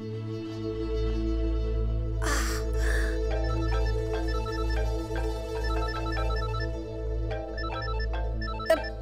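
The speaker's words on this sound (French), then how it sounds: "Son téléphone est là, Zinat." A phone rings in a domestic drama scene, its electronic ringtone repeating in short tonal patterns over a steady low background hum and music, fairly loud, with no talk.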